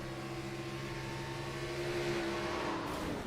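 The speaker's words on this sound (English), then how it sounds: "You could still hear the car there." A race car engine hums in a sim racing broadcast, a sustained, fairly faint droning tone that holds steady and then dips slightly toward the end, with no talk.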